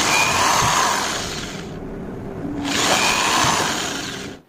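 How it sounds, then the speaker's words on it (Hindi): A drill machine bores a hole in a 1x3 inch piece of wood with a close, loud, whirring whine. It runs in two bursts with a brief dip between them, then stops. "एक टुकड़े पे इस प्रकार से हम छेद कर लेंगे ड्रिल मशीन के द्वारा"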